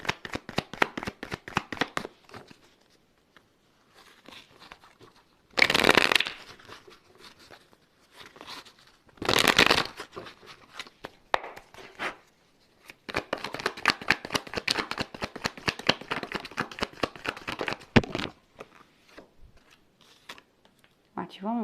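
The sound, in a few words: shuffling a deck of oracle cards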